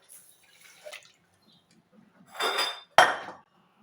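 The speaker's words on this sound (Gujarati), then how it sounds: "હવે આ બધું આપણે થોડુંક પાણી ઉમેરી દઉં એમાં" A splash of water poured into a cooking pot of dal with ginger, garlic, onion and tomato, a short close gush followed by a sharp metallic clink and a second splashing pour, with no talking.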